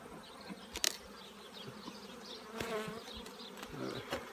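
Honey bees swarm and buzz loudly over an opened beehive's brood chamber, a dense steady drone with sharp passes of individual bees close by and a few brief knocks.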